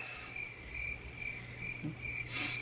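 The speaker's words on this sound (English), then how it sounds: "Cricket." Crickets chirp in a steady, continuous high-pitched trill, faint and ambient, with low background hum and no talking.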